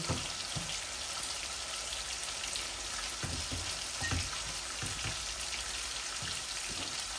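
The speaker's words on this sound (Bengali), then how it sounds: "এই আমার পেঁয়াজটা ভাজা ভাজা হোক, তারপর আমি মাছগুলোও উল্টে নিব" Fish with turmeric and onions frying in a pan give a steady, close, dense sizzle that holds throughout, with small crackling pops scattered over it and no talking.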